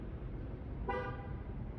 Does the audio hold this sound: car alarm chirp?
yes